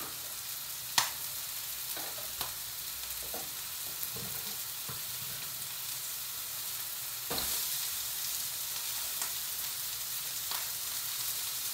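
Sliced onions fry in a pan for a homemade biryani, giving a steady close sizzle with a few sharp clicks and stirring taps scattered throughout.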